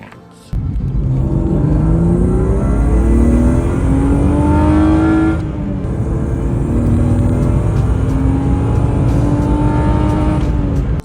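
A BMW E36 car pulls away and drives off, its engine loud and close with rising revs and gear changes through a sustained rumble; no talking.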